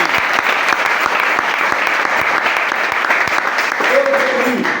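A congregation claps together during a Sunday church service, a steady dense wash of applause throughout with a brief voice or tone rising near the end.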